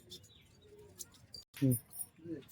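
Giribaz pigeons coo nearby, a few soft throaty calls and small chirps under a man's speech, with the birds shuffling quietly.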